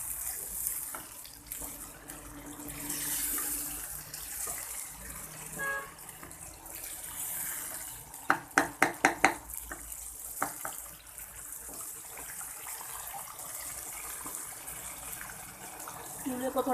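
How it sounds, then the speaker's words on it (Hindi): Water pours and splashes into a pot of chicken korma as it is stirred, a soft running trickle that comes and goes, with a brief clatter of quick knocks partway through. "मिक्स करते जाएं ऐसे और पानी शामिल करते जाएं"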